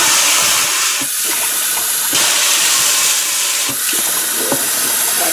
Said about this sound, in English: Water is running good too.